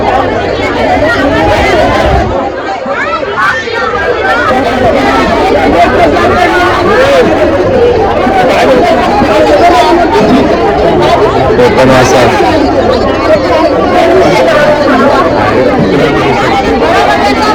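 A busy fish market on the Konkan coast is filled with dense crowd chatter, a loud and continuous babble of many voices throughout, with one person speaking nearby.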